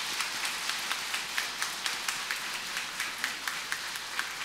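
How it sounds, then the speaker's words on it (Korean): A church congregation applauds new catechumens in welcome, a steady wash of many hands clapping with regular sharper claps standing out, heard from a distance in a reverberant hall. "우리 환영의 박수 한번 보내주시기 바랍니다."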